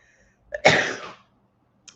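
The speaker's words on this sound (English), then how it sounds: "excuse me, I'm going to sneeze here" A single sneeze, a short intake then a sharp burst that fades within half a second, followed by quiet.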